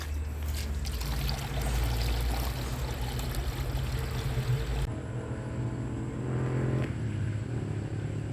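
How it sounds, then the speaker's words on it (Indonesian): Well water pours steadily into a container while mixing a nutrient spray solution, a loud continuous rushing stream that drops in intensity partway through, then keeps flowing more softly. "kita ambil langsung air dari sumur penyiraman kita ya"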